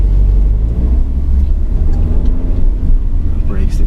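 A Mercedes CLA250 engine rumbles steadily as the car downshifts and pulls harder under acceleration, a continuous low drone with road noise in the cabin.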